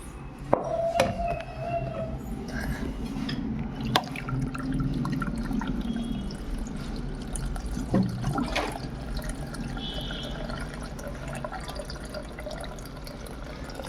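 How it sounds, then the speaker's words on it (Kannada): Water pours from a container onto already washed lentils in a pot, a steady soft splashing stream running close by for several seconds with a few brief clinks and drips. "ಈಗ ಡೈರೆಕ್ಟಾಗಿ ನೀರು ಹಾಕಿಬಿಟ್ಟು ಇಡೋದಷ್ಟೇ"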